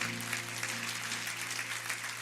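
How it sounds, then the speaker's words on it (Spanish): A church congregation applauds steadily through a sermon, a dense continuous clapping with a low hum beneath it. "Den un aplauso al Señor, mis hermanos"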